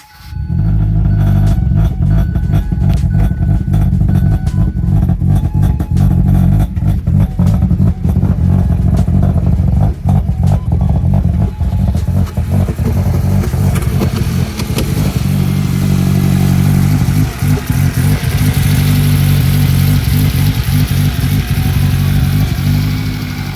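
A loud stock car engine with a big turbo revving hard and repeatedly, rough throttle blips and sustained high revs roaring close by with no talking.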